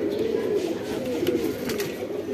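A male ghiya pigeon coos close by, a continuous low throaty rolling call over a couple of seconds.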